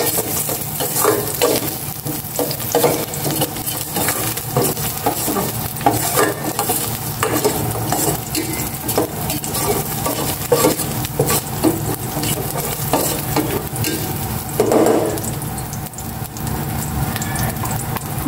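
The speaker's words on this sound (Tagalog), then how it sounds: "Gisa ko na itong bawang." Garlic sautéing in a little cooking oil, with a constant loud sizzle and frequent utensil scrapes and stirs against the pan throughout, close by and with no talking.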